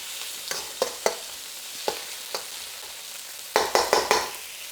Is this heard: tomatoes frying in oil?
yes